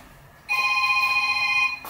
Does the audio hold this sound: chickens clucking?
no